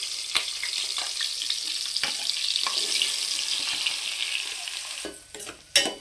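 Chopped onion pieces tipped into hot oil with green chilies for a drumstick and egg curry, giving a steady, close, crackling sizzle, with a few sharp spatters and a brief stir-like clatter near the end.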